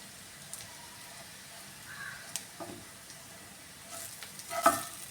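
Fish-fry masala sizzling softly in a pan, a faint steady crackle with occasional stirring scrapes and a louder utensil clink near the end, no talking.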